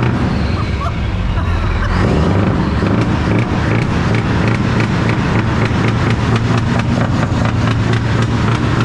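Volvo truck engine running near the exhaust, a loud low rumble with rapid pulsing that holds steady while people talk over it.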